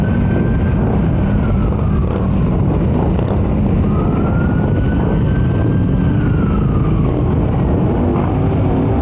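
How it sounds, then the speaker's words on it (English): Fire truck sirens wail loud and steady with rising and falling tones, over heavy traffic and rumbling engines during a road procession with motorcycles. "Fire trucks are going behind."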